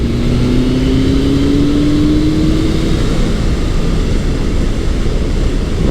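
Retro superbike, a Honda CB1100 or Kawasaki ZRX1100 held in a low gear, pulling steadily with a loud continuous engine drone and a slowly rising tone under heavy wind rush, close and unbroken throughout.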